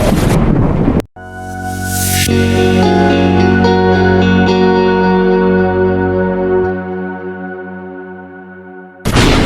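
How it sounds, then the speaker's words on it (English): Howling wind rising as a storm begins over a shack reinforced with tarpaulin and rope, a loud sustained roar layered with tonal, whistling textures that swells and holds for several seconds before dropping away. "The wind howled, and the first raindrops began to fall."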